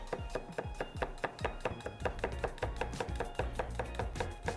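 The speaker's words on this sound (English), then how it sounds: "Slice up our celery, slice up our scallions" A knife chops scallions and celery on a board in quick, steady strokes, each cut a crisp close tap repeating rhythmically throughout, with no talking.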